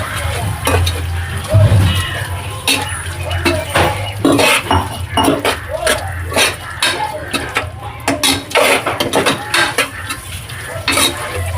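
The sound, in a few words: stirring ginger garlic paste in a pan for tomato rice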